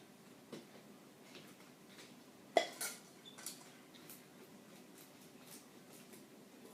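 Scraping sticky cornflake tart mixture out of the bottom of a pan, a few soft scrapes and one sharper metallic clink, quiet and sparse in an otherwise calm kitchen.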